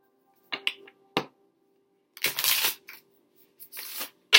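Tarot reading cards shuffled by hand in brief bursts: a couple of short riffles, then a longer snapping flutter of cards, a pause, and a final quick riffle, close and alone.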